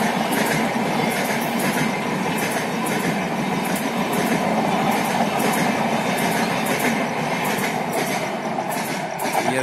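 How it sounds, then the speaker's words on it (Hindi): The Durgiana Express passenger train runs non-stop through Bareilly station in India, a loud, continuous rumble under a rhythmic wheel clatter that holds for the whole stretch with no talk. "ये देखिए दोस्तों दुर्गियाना एक्सप्रेस, जिसका अमूमन यहाँ पे बरेली जंक्शन में स्टॉप नहीं है।"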